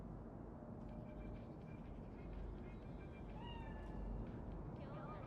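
Faint cat meows, a feline spirit in the video game Cyberpunk 2077, drift in and out over a constant low rumbling background, with a voice in the mix.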